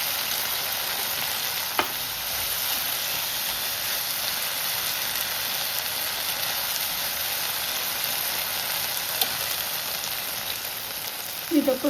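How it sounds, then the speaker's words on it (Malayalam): Grated coconut fries in a pan with a constant hiss and sizzle, broken by a couple of sharp scrapes as it is stirred and a clatter near the end. "ഇനി ഇതിലോട്ട് തേങ്ങയും കൂടി ഒന്ന് ഇട്ട് ഇളക്കിയിട്ട് നമുക്ക് ഓഫ് ചെയ്യാം."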